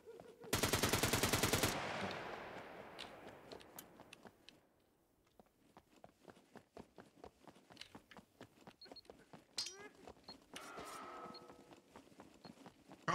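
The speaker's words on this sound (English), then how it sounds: "Who is that shooting?" Gunfire in a video game, a loud opening burst of rapid shots followed by scattered sharp cracks and footstep-like clatter at a steady pace, fainter and more distant.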